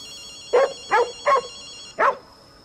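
Four sharp dog barks in the game Ghostwire: Tokyo, evenly spaced then a short pause before the last, clear and fairly close over a faint electronic hum.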